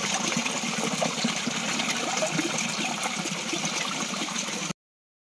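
Water from Dangargarh waterfall near Kalam, Bhawanipatna, flows and splashes in a steady, broad rushing wash that holds constant and fairly loud, then cuts off abruptly near the end.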